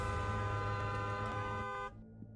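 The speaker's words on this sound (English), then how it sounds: "this loud car horn sounds from outside" A loud car horn blares outside in one long sustained honk, rich and brassy, cutting off abruptly near the end.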